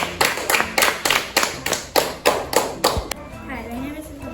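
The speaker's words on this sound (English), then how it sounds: "Give them a round of applause." Steady, rhythmic clapping from a sixth-grade classroom audience after a student's how-to demo, about ten sharp claps in an even beat, then it stops and leaves quiet room sound with a faint voice.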